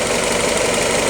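A cold Willys L-head engine idles steadily at close range, its even mechanical chatter and light knocking continuing without a break and with no voices.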